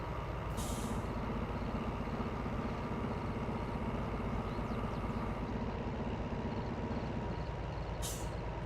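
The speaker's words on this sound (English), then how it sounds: "Okay, that's the train brakes off." Train air brakes releasing in the video game Derail Valley give a long, steady hiss over a low rumble for most of the stretch, then taper off, with short bursts of air at the start and end.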